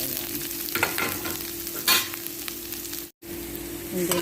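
Onions sizzle steadily in a hot pan as a spatula stirs them, scraping strokes rising over the continuous fry; no talking, with a brief cut to silence near the end.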